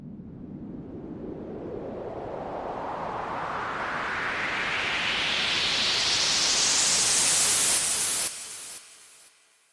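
White noise run through BandLab's multi-filter with the resonance turned up: a loud, steady hiss whose bright, whistling resonant band sweeps smoothly upward for about eight seconds, then cuts off abruptly, leaving a short fading tail and no voices.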